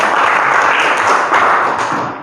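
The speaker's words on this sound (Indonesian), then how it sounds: "Tepuk tangan dulu." Students applaud in a classroom, a brief burst of dense, loud clapping from many hands that fades out after about two seconds.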